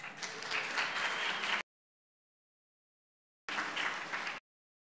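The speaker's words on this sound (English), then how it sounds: "let's give them all a round of applause." Church congregation applause during a Lent Sunday service, two bursts of clapping broken by a gap of silence, moderately loud and without talk.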